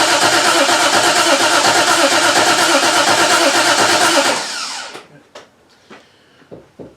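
The engine of a 1968 Triumph TR250 cranks on the starter in a loud, steady, rapid churning for about four seconds without catching, then stops, leaving a few faint clicks and knocks.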